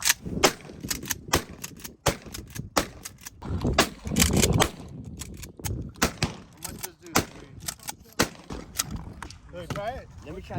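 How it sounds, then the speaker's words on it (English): Shotgun blasts at an outdoor shooting range ring out in a rapid series of loud, sharp reports, some closely spaced, with people talking in between shots. "I don't like shotguns, bro. Yeah. I'm good to shoot."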